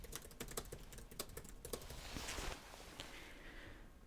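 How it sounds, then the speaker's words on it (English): Fast, close clicking of keys on a computer keyboard in a quick burst of typing, then trailing off into a softer hiss and faint rustle, with no talking. "I'm just going to type in what is a great year."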